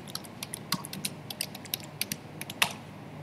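Rapid typing on a computer keyboard, a quick irregular run of light key clicks with one sharper press near the end, close and clear with no talking.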